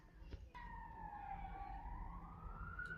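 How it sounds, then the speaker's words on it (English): A siren wails in the distance, its tone sliding down then rising again, faint over low background traffic rumble. "And the sirens came."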